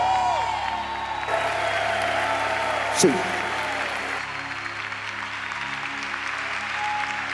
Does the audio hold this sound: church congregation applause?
yes